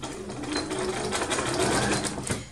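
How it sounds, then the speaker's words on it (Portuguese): A domestic sewing machine runs steadily, stitching fabric for a reversible unisex hat, with a continuous close mechanical whir and rapid needle clatter throughout and no talking. "Isso aí é onde eu vou começar a minha costura."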